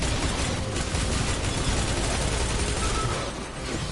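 A gun in the video game Destiny fires rapidly in a dense, continuous stream of shots with no pauses.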